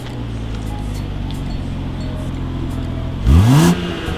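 A modified BMW X7 gives one short, sharp rev, the engine note climbing quickly and then dropping back to a low idle rumble, close and clear.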